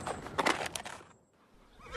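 A horse being led to the smith to be shod lets out a loud, close whinny that fades into quiet, with a faint hoof clop and no talking.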